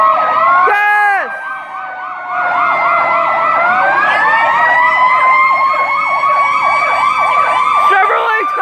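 A fire truck carrying Santa Claus at a holiday event blares its siren up close, loud rising and falling wails looping continuously with steady tones, while people can be heard faintly underneath.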